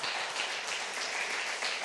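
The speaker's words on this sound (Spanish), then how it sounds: "Dele un aplauso a Dios." A church congregation applauds, a faint, distant, even hiss of many hands clapping that continues without a break.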